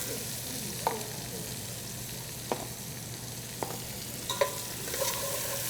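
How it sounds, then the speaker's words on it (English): Two julienned shallots caramelize in hot bacon fat with a steady, close sizzle, broken by a few sharp spoon clicks and stirring scrapes against the pan. "So now we're going to caramelize the shallots in that bacon fat."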